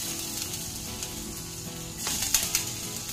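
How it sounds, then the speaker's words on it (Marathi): Ginger hits hot oil in a pan for Schezwan fried rice. A soft, steady sizzle rises and crackles louder near the end, with a few small pops. "सो तेल आपलं आता छान तापलेलं आहे. त्याच्यात आता मी ॲड करणार आहे थोडंसं आलं,"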